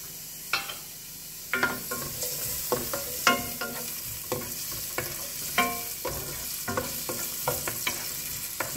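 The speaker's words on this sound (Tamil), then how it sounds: "வெங்காயம் வதங்கட்டும்." Small onions, chopped fine, sizzle in a pan while a spoon stirs them, with repeated scraping clacks at a steady, unhurried rhythm over a constant frying hiss, close up and with no one talking.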